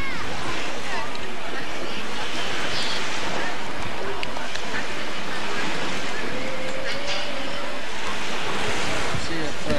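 Stormy sea on the Ukrainian coast near a seaside sanatorium: a loud, constant roar of breaking surf and wind fills the whole stretch without pause.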